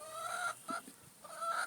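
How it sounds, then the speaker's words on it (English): A chicken on a farm clucks in a few repeated bursts, close and fairly soft, with brief pauses between calls and no talk. "Another chicken."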